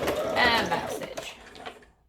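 A sewing machine back stitches a hoodie seam with a dense, fast mechanical whir up close that slows and fades out over about two seconds.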